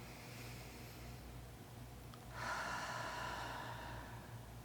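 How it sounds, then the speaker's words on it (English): A slow, deep inhale during a guided breathing exercise, a soft breathy rush that swells near the middle and holds over a faint background hum. "let's just breathe in for one"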